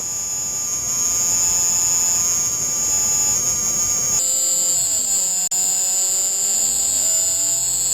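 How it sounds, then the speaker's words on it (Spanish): Steady, loud, cicada-like electronic buzzing recorded in Cuba, a continuous high whine with a sharp shift in tone midway and a brief dropout near the end. "este ruido común es muy parecido al ruido de una cigarra"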